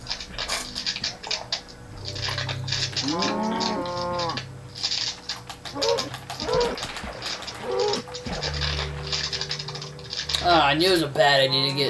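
Synthetic-sounding cow moos from a Minecraft-style survival game repeat several times over game music and effects, fairly loud and close, with a few other bursts of noise between them.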